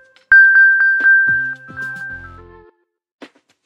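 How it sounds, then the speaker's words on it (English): An iPhone plays its Find My chime: a string of bright, quick electronic pings that ring out and fade, followed by softer lower tones and then one last isolated ping after a short pause. "To help find a nearby device, tap Play Sound. Your device plays a chime,"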